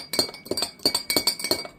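A spoon stirs salt and sugar into boiling water, striking the pot in about seven quick, bright clinks in an even rhythm, close up and with no talking.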